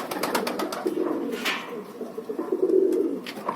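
A kalduma pigeon coos in low, rolling bursts close by, with brief flutters and chirps mixed in and a steady hum of background noise.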